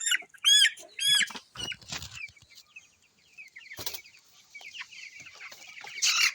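A backyard chicken gives several sharp, high clucks and squawks while being held for a Ranikhet eye-drop vaccination, followed by scattered softer clucks and handling noises, close by and without talk.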